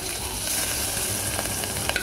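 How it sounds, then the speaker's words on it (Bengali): Onion frying in hot butter with tempering spices in a pan for mutton soup, a loud continuous sizzle with small pops and stirring clicks, close up and without speech. "এবার ওর মধ্যে দিয়ে দেবো আমি পেঁয়াজটা।"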